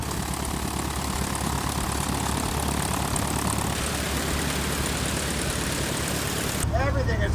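A light single-engine piston airplane, hurricane-damaged and bought cheap, idles on the ground during a magneto check, a steady close propeller drone that continues throughout and cuts off abruptly near the end.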